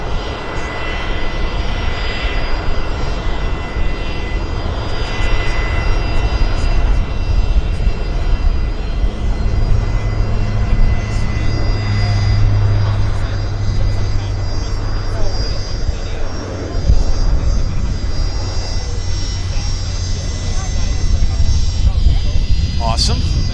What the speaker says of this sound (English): here's Westjet's Q400 on the roll, right there